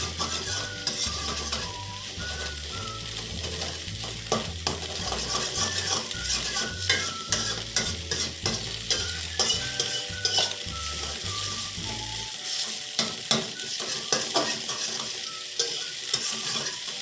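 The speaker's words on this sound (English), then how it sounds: "After 20 seconds, fold the eggs to the center and stir it with spatula." Scrambled eggs stirred and folded with a spatula in a frying pan, a steady sizzle with repeated scraping strokes throughout, close and alone with no talk.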